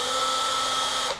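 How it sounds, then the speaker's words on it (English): A drill bores a 3/8 inch hole through automobile body sheet metal, giving a steady high whine that holds for about a second before tapering off, close and alone. "go ahead and drill a hole 3/8 of an inch"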